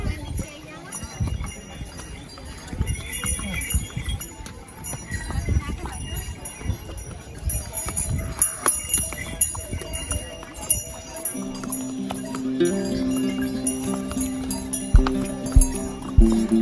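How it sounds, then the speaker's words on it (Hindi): Horse hooves clip-clopping as the animal runs off along the Kedarnath Dham mountain trekking trail in Uttarakhand, a light irregular clatter under ongoing talk and crowd noise, with animal calls and a steady tone toward the end. "ये देखो घोड़ा छोड़ दिया, भाग गया, इसका घोड़ा भाग गया।"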